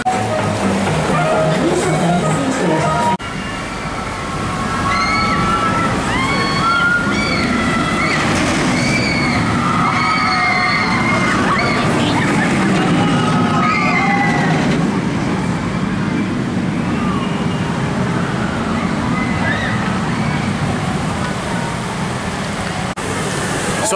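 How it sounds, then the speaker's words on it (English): Water rushing and splashing around a River Rapids raft ride at Drayton Manor theme park, a steady loud broadband roar with riders' voices and shouts mixed in throughout. "So I've just had a ride on the River Rapids."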